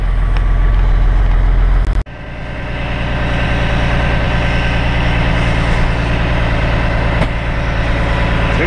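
A 1985 Kenworth Canadiana truck's heavy diesel engine runs loudly, cutting off sharply after two seconds and then coming back to a steady low idling drone.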